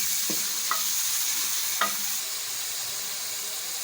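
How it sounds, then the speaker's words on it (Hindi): Bottle gourd masala with tomatoes and green chillies being stirred in a frying pan, a few distinct spoon scrapes over a steady soft sizzle. "इसको अच्छे तरीके से मिक्स कर लेना है।"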